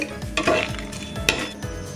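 Whole spices, cinnamon, cardamom, cloves and dried red chillies, fry lightly in oil, giving a soft sizzle broken by a few scraping stirs of a spatula against the pan.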